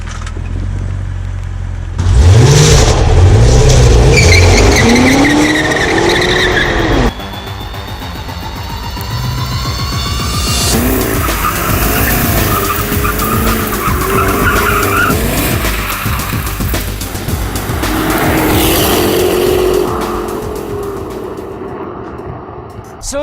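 A 2019 Cadillac CTS-V slides through canyon roads with loud tire squeal, engine revs rising and falling through the gears, and a long, screeching skid. Everything is heard close and intense throughout.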